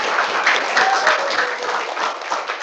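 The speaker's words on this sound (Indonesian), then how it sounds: "Oke, tepuk tangan untuk kita semuanya." An indoor audience bursts into brisk applause, dense clapping holding steady for a couple of seconds with some voices mixed in.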